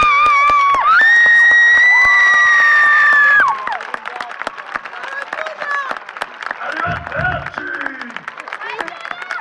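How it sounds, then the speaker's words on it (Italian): Audience at a comedy show in a holiday village clapping and cheering, with a loud sustained tone at the start, then scattered claps, shouts and children's voices. "veramente fatemi un applauso"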